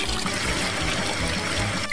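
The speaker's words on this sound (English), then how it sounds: "The water pump." A toy water pump in a Lego Technic boat game pours a steady stream of water, a continuous close trickling and splashing that runs unbroken with no talk over it.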